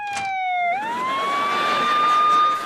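Emergency siren wailing in a single long rising tone, fairly near and loud.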